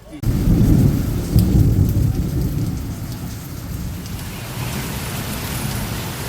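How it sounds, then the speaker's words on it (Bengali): Steady rain pours outside in a dense, even hiss, with a low rumbling undertone, loud and continuous with no voices. "এখন আমাদের এখানে হচ্ছে বৃষ্টি এই যে বাইরে পড়ছে বৃষ্টি"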